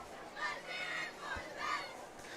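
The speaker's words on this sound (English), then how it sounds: "The cheerleaders are cheering again" Cheerleaders cheering at a high school football game, faint distant rhythmic chants rising and falling in three or four bursts across a quiet open field.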